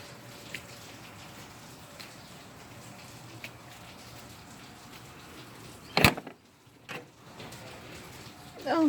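Steady rain falling outside on a homestead, a continuous even hiss with scattered drops, broken by a few louder knocks and bumps near the end.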